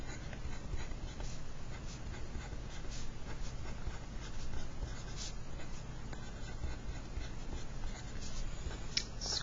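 A pen or marker sketches a sine graph by hand, with steady scratchy drawing strokes running throughout at close range, and no talk over them.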